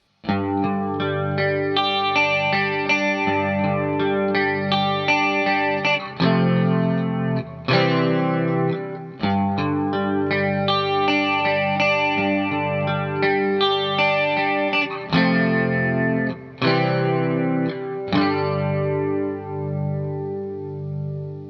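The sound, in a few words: guitar playing intro chord progression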